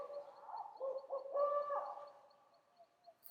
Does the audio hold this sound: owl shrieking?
yes